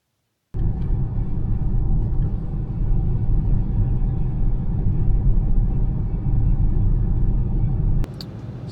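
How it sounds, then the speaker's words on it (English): Steady low road rumble from a car driving through the Badlands, a constant close drone that starts suddenly after a moment of silence and drops slightly near the end. "Still driving through the Badlands"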